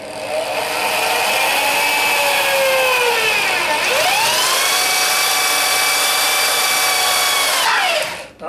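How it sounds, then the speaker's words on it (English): A power drill whines continuously, its pitch dipping and rising as the bit bites into wood, loud and close, then winding down at the end. "Right there is where I'm going to drill my hole."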